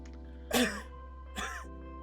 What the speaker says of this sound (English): I heard a faint coughing